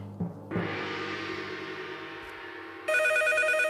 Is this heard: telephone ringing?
yes